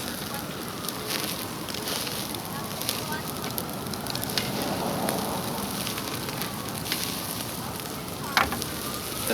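Shrimp and steak sizzle on an outdoor cooking surface, a steady broadband crackle and hiss that runs throughout at moderate level, with a few sharper pops near the end.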